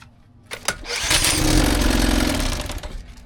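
A 1957 Sea King 5hp outboard motor catches after a couple of pull clicks, firing up into a loud, rough, sputtering run close by before easing off slightly.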